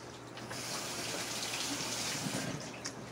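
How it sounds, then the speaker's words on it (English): Running water from a tap rinses slime and dirt off a night crawler worm, a steady close hiss of flowing water over a low hum, continuous for about three seconds. "And then I wash all the slime and the dirt off of it so it doesn't cloud up the tank."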